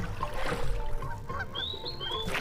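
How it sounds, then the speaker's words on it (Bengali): Ducks honking in the video game Meena 2, a few short nasal honks and squeaky calls rising over a busy game background, heard in quick succession within a couple of seconds. "তো এখানে দেখা যাচ্ছে অনেকগুলো হাঁস এই হাঁসগুলো যন্ত্রণা করবে"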